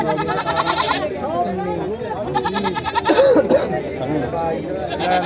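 Barbari goats bleat repeatedly amid a busy crowd at a goat market, with people talking and shouting nearby.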